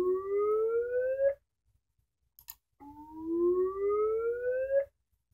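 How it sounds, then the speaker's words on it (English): An electronic siren tone rises slowly in pitch, cuts off, then winds up again in a second identical sweep after a short pause, clean and loud. "I think I have some of a siren wind-up I've been working on."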